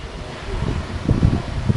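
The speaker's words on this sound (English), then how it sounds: "It's very windy out here today" Wind blowing outdoors at a gasifier test site, a steady low rumble of gusts buffeting the microphone, close and moderately loud, swelling in uneven bursts with no voices.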